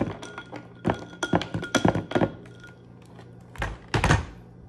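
Crown Apple whisky and RumChata being stirred together in a glass, a series of close, knocking thunks and taps in irregular bursts, then a short pause before two more clunks.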